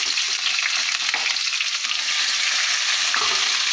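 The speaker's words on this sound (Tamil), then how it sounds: "இப்போ வெங்காயம் சேர்த்துடலாம்." Sliced onions fry with fennel seeds in a hot pan, giving a loud, close, continuous crackling sizzle with bright spitting noise throughout.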